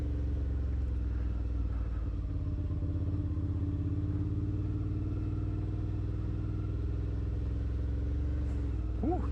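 A 2019 Suzuki V-Strom 650 rides slowly along a tight trail, its low-geared engine giving a steady, close, grunty rumble that holds at an even pitch throughout.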